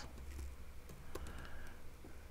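Quiet computer keyboard typing: a handful of light, irregular key clicks spread across a couple of seconds over a soft background hum.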